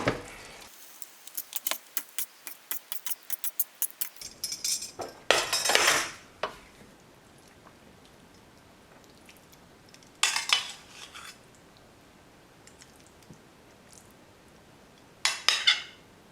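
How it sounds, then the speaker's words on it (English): Utensils scrape and clink against a pan while spaghetti is stirred through puttanesca sauce, with a quick run of light metallic taps followed by a few louder, separate bursts of scraping and clatter spread out over quieter stretches. "I'm just going to drop my pasta in and stir it through the sauce"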